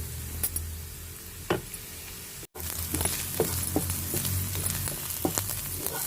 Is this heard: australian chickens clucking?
no